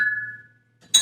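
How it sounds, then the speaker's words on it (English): A drinking glass for whisky tasting picked up and set down, a single clear clink with a ringing tone that fades, followed by a short sharp knock of glass meeting a surface. "But I will first get a glass that doesn't have a fly in it."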